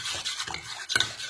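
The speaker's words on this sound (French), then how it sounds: "Je mélange." An anti-aging mask mixture stirred in a pot over heat: short scraping strokes of a spoon against the pot with a light metallic clink, close and fairly loud.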